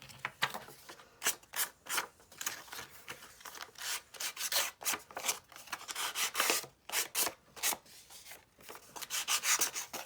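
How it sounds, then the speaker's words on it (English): Edges of vintage postcards being sanded by hand, a close series of rhythmic rasping strokes, uneven in pace, some louder than others, with no talk. "The other thing we could do is we could sand the edges a little."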